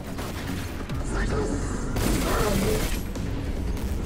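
Sustained gunfire and booming impacts in the PC shooter Destiny 2, a dense, loud wall of shots and mechanical clatter layered with game effects, continuing without pause throughout.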